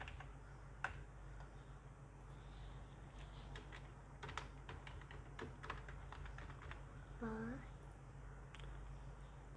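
Typing on a computer keyboard while entering an ID number and password at a login page: scattered quick clicks and taps in irregular bursts, fairly faint, over a steady low hum, with a brief unrelated tonal sound partway through.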